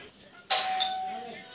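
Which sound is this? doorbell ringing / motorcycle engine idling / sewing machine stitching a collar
doorbell ringing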